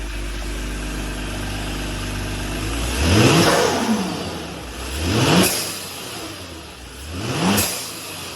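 A tuned Kia Stinger engine idles steadily, then revs loudly three times in quick succession, each rise and fall clear and close with no talking.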